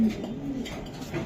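Racing pigeons give soft, low cooing calls close by, a short muffled burst of throaty murmuring.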